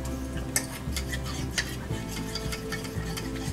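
Cornstarch and water being stirred together in a bowl for pot roast gravy, a steady close scraping swirl with a few light clinks of the utensil against the side.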